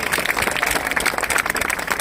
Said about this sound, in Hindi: जोरदार तालियों के साथ इन सारे वॉरियर्स का हौसला बढ़ाइए।